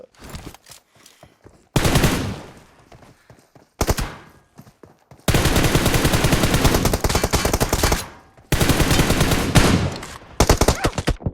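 Automatic gunfire in the mobile video game PUBG Mobile: loud sustained bursts of rapid shots lasting several seconds each, broken by short gaps and single cracks, with no voices.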